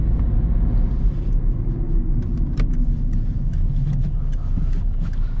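A cold 2006 Peugeot 207 1.6 HDi 90 hp diesel engine runs with a steady, close, low rumble that holds even throughout, with faint light rattles above it and no talking.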